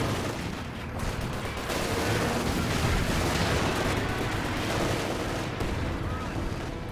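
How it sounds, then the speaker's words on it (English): Mortar and artillery fire in the Company of Heroes 2 battle game keeps up a dense, continuous barrage of booming blasts and crackling impacts, loud and unbroken throughout. "But the artillery Nick has, the mortars."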